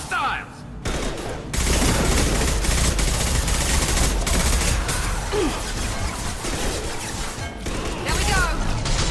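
A Mass Effect 2 firefight brings dense, rapid gunfire: loud, continuous bursts of shots and crashing impacts that fill the whole stretch, with brief shouted voices over the battle.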